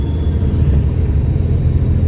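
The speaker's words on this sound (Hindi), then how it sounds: "तो अभी 4th गियर में चल रही है हमारी गाड़ी" A car cruising in fourth gear at about 30 to 40 km/h, a steady low road rumble and engine drone heard from inside the cabin, even and unbroken.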